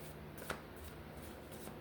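Tarot cards being shuffled by hand in a quiet room: a soft, faint, continuous papery riffle with a single small tap partway through.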